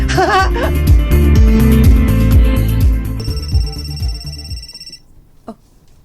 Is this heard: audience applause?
no